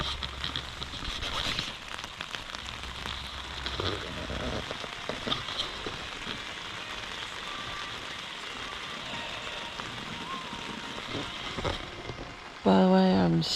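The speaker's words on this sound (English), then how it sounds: "Hopefully the rain will die down soon." Steady rain patters on a tent during a camping morning, a dense, even hiss of drops close overhead with occasional louder taps, ending in a brief burst of other noise.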